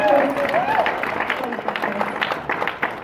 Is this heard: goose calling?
no